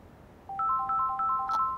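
A mobile phone ringtone: bright repeating electronic beeps in a quick melodic pattern start after a brief quiet moment and ring on clearly with no talking.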